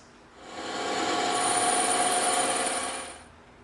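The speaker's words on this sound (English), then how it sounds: "Now we're going to go over to the bandsaw, and we're going to cut this little slice off the bottom of our piece." A bandsaw slices a thin piece off a block of EVA foam with a smooth, steady whine. It swells in and fades out over a few seconds, close by, with no talk.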